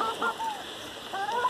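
Backyard hens being fed hydroponic corn let out a few soft, scattered clucks and short calls, near but fairly quiet, over a faint background hiss.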